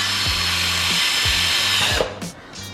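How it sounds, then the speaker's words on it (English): Loud, high whine of a power drill friction drilling into metal on a Mazda3 while fitting mud flaps, with a low motor hum pulsing beneath, then winding down into short bursts. "friction drilling."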